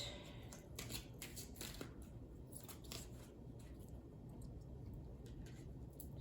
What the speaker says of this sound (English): This is a slippery, a sticky deck, so bear with me as I shuffle.